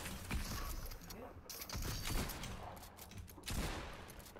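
In the video game Fortnite, rapid bursts of gunfire rattle out in quick overlapping volleys, dense and continuous, while a player's voice talks over the action.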